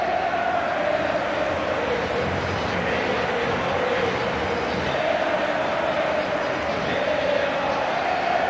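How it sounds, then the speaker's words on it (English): A packed football stadium crowd roars and applauds in PES 2018, a dense, loud, unbroken wash of cheering that swells slightly in places. "All corners of the stadium break into rapturous applause as their heroes emerge."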